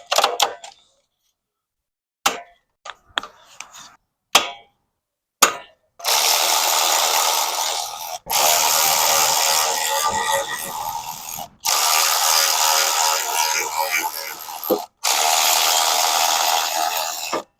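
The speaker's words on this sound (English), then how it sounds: "Now we can get these 4 mounting bolts off." Ratchet wrench loosening the four mounting bolts on a Coleman B200R engine: a few isolated clicks, then four long bursts of loud, rapid close-up ratcheting separated by short pauses.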